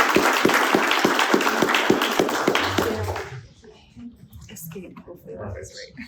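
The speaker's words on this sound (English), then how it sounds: "Can we get a round of applause for our presenter?" An audience at a talk on going solar in Southern Oregon claps for the presenter, a few seconds of close, fairly sparse clapping that stops abruptly and gives way to quiet room sound and faint voices.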